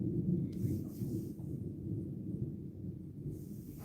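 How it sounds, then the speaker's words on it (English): Thunder rolls as a continuous low rumble for the whole stretch, fairly loud and steady with no talk over it. "Y'all hear that thunder?"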